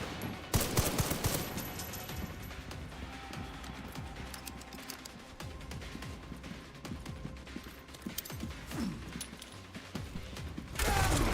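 Shotgun in a video game firing in rapid blasts amid clattering mechanical noise and repeated sharp impacts throughout, with a loud burst at the start and another at the end; no talking.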